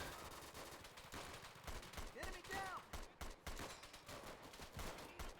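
Full-auto rifle fire in the video game Easy Red 2 rattles in dense, rapid bursts, steady and loud throughout, with a faint voice partly buried beneath.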